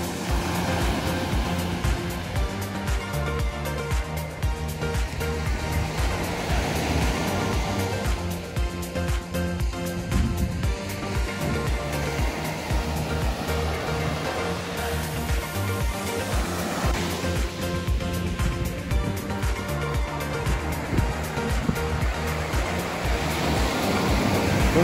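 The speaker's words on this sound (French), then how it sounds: "Écoutez les vagues." Sea waves breaking on a cold shore near Kaliningrad, a continuous loud wash of surf with no pauses, heard alone without talk.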